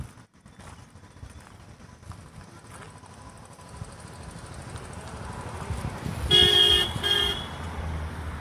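Traffic on a road near Nainital rumbles steadily and grows slowly louder as vehicles pass. Near the end a car horn sounds one clear toot lasting about a second.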